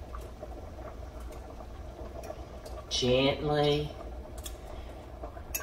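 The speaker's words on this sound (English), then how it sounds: "Can y'all hear it boiling?" Chicken and broth boil in a pot for chicken and dumplings, a steady low bubbling and pattering that runs throughout while someone briefly speaks a single word over it.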